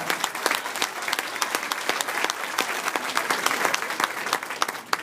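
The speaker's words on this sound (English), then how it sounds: "We hope you will, yes, give them a round of applause." Audience applause at a women's bowling tournament in Lansing, Michigan: steady, moderately distant clapping from a crowd throughout, with no voices on top.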